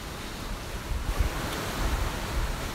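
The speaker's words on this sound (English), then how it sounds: "You guys hear the waves?" Ocean waves break and wash continuously as surf rolls in under steady wind noise across the microphone, with a low, rumbling roar swelling in the middle and again toward the end; no voices.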